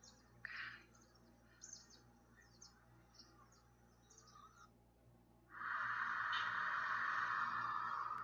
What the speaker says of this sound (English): The sounds of the birds can be heard.